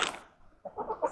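Jersey Giant and American chickens cluck in a short burst, a few close, choppy calls after a sharp opening sound, with no talking.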